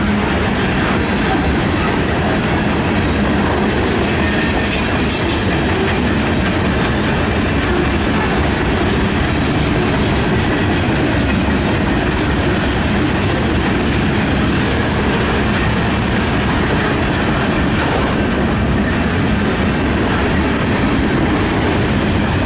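A CN freight train hauling many lumber cars rolls westbound past a trackside spot in Battle Creek, Michigan, a loud, close, continuous rumble with steady clickety-clack of wheels over rail joints and occasional faint squeals.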